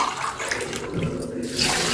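Rice being washed in water at a kitchen sink while preparing gongura pulihora, with steady close-up sloshing and running-water noise throughout and no talking.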